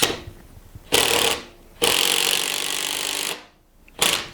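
A power driver sinks a screw into a wooden bowl blank for mounting on a lathe, in three loud bursts of whirring grind separated by short pauses, the middle burst running longest.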